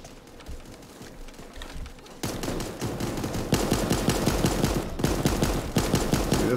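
Rapid bursts of automatic gunfire in the cartoon battle royale Super Animal Royale, a steady stream of bullets that grows louder and denser after a quieter opening, with no talking.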